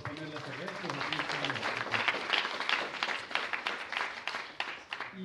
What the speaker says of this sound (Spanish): un aplauso de hecho a Triple X por proponer las ideas